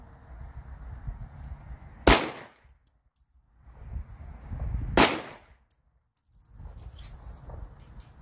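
A Springfield SA-35 Hi Power pistol fired outdoors, two loud sharp shots about three seconds apart as the slide cycles, each with a brief ringing decay, amid faint background rumble.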